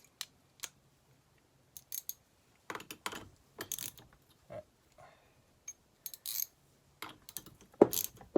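A socket ratchet tightens a part on a Homelite XL12 chainsaw during a rebuild. Crisp, short metallic clicks and ticks come in scattered bursts with quiet gaps between them, close by and fairly soft.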